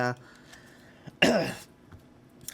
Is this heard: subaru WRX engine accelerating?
no